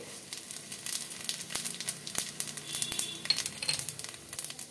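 Whole cumin seeds hitting hot oil in a wok for jeera aloo, a quiet crackling sizzle with scattered pops and light metallic clinks of a utensil throughout.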